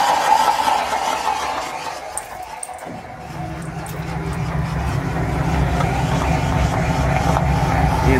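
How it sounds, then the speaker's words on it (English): An exhaust fan in a workspace where a potassium chlorate gummy bear reaction is being run switches on partway through, settling into a loud, steady whir and low hum that continues to the end. "I gotta turn on the exhaust fan."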